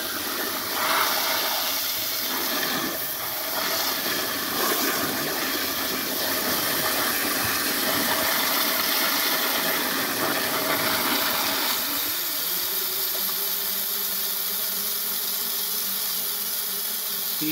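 Water rushes and gurgles in a steady, hissing torrent, a strong garden hose jet blowing out the trap of a Toto Drake toilet, settling into a lower churning flow near the end.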